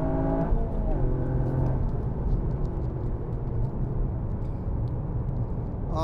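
A Toyota GR Corolla RZ Morizo Edition with the GR-FOUR all-wheel-drive system holds a steady, loud engine drone and road roar throughout while cornering, with a voice speaking over it.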